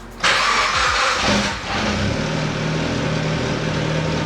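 A Mitsubishi Lancer engine cranks with the starter, fires up, and settles into a steady idle, close and loud.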